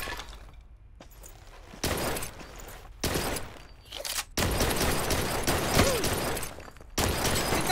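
Gunfire in the video game Blue Estate, loud sustained bursts of shots and crashing impacts arriving in long blocks separated by short gaps, close and dense with no talking over it.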